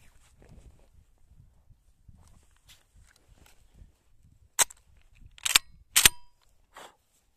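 A shotgun fires at an armor plate outdoors, three sharp, loud cracks in close succession near the end, after quiet rustling and handling noises.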